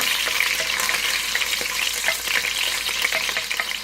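Chicken browning in rendered chicken fat in a pan for chicken adobo, a loud continuous close sizzle and crackle with faint stirring, no voices.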